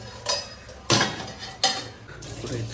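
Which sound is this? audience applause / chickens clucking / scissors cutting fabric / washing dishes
washing dishes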